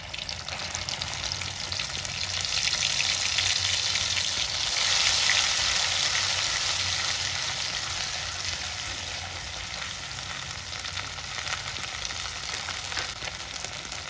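Cumin seeds and spices fry in hot oil for a Bengali fish curry with broad beans and tyangra fish, a steady close sizzle that swells in the middle and then settles, with no talk.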